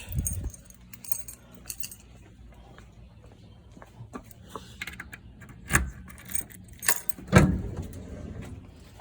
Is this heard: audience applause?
no